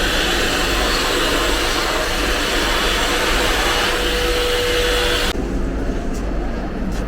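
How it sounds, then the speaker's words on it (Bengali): Hand dryer in a washroom aboard a Vande Bharat train, blowing with a loud, steady roar that cuts off abruptly near the end, leaving a quiet hum. "এখানে আছে হচ্ছে হ্যান্ড ড্রায়ার"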